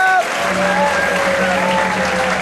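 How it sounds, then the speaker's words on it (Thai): Applause from a studio audience on a Thai talk show, after guest doctor Phansak is introduced. Dense, close clapping runs throughout over a low, steady background tone. "ขอเสียงปรบมือให้คุณหมอ"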